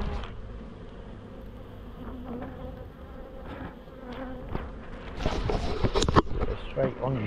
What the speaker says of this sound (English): There's a ball of bees here.